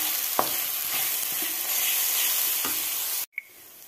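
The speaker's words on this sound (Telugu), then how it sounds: "అల్లం వెల్లుల్లి పేస్ట్ పచ్చి వాసన పోయేంత వరకు చక్కగా వేయించుకున్నాం కదా" Ginger garlic paste fries in hot oil for a methi chicken curry, a steady close sizzle with a few soft spoon stirs, cut off near the end by a short tap and quiet.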